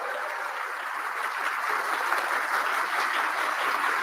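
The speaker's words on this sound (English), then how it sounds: "Give a round of applause for Ted." An audience at a political event applauds continuously, a dense wash of clapping that holds steady and swells slightly toward the end, with no voices over it.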